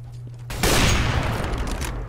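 A dense burst of gunfire in CS:GO, a prefire, erupts suddenly and sustains as loud, rapid cracking that fills the rest of the moment after a brief quiet lead-in.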